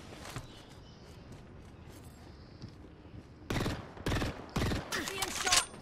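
Gunfire in the video game Apex Legends, a few quiet shots early, then several loud close bursts of rapid fire in the last couple of seconds.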